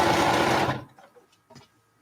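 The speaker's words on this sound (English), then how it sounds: "turn my whole quilt, and start to sew 1/4 of an inch in." A sewing machine stitches quilt binding with a loud, fast, steady whir for under a second, then stops, leaving faint handling clicks and soft noises.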